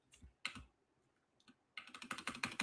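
Rapid clicking of typing on a computer keyboard, a short burst, a pause, then a sustained run of dense, close keystrokes.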